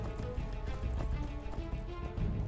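Donkey hooves gallop in the Skyrim mod Enderal, a fast continuous clip-clop rhythm heard under a dense, loud layer of game music and ambience, with no speech.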